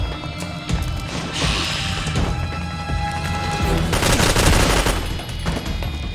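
Heavy gunfire and crashing impacts in the Metal Gear Solid 4: Guns of the Patriots action game, with rapid bursts and loud smashing hits layered over dense combat noise throughout.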